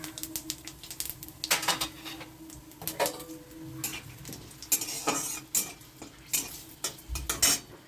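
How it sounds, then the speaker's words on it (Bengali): Dried red chilies, cumin seeds, cardamom pods and cinnamon pieces crackle in hot oil in a pan. Soft sputtering pops and clicks come with the light metallic scrape and tap of a stirring spoon, close and fairly quiet. "ফোড়নটা আমার ভাজা হয়ে গেছে"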